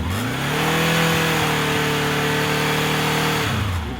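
A motorcycle rides along a road through a vineyard, its steady engine drone rising as it approaches, holding close for about three seconds, then dropping away as it passes.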